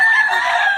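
A young stag rooster lets out a loud, close crowing call with a clucking edge, one sustained cry filling the moment with no talk over it.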